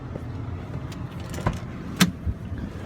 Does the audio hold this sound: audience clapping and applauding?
no